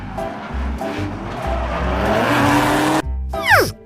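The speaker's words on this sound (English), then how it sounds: "Racing car. Say with me. Racing car." A racing car roars past in a brief burst, its engine growling with a rising whine before a sharp tire squeal at the end.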